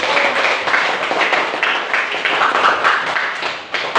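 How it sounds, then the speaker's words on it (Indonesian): A class of students claps together in a steady burst of applause lasting several seconds, fairly close and loud. "Tepuk tangan untuk kalian semua"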